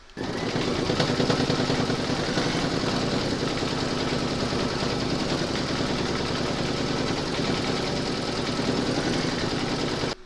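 An embroidery machine stitching a shamrock pot holder design in variegated thread runs with a steady, rapid mechanical rattle and hum, continuous and close, with no voices.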